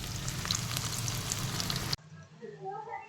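Whole cumin seeds hit hot oil for tempering and sizzle loudly and steadily, then the frying drops off suddenly to a quieter crackle.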